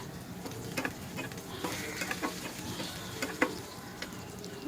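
Green chillies and salt stirred in a pan for pasta, a soft sizzle with scattered light clicks and scrapes of a spoon against the metal, fairly quiet and close, no speech.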